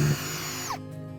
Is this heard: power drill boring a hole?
yes